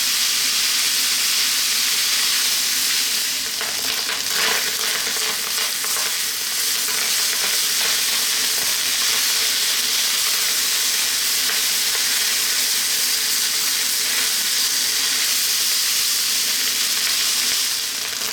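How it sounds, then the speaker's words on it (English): Shrimp fried rice fries on high heat in a pan, giving a steady, loud, hissing sizzle that runs unbroken for the whole stretch, with faint stirring scrapes and no voices. "That's actually the rice actually frying."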